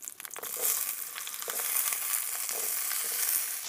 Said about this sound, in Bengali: এবারে আমি কড়াই তেল দিয়ে আলুগুলো ভেজে নেব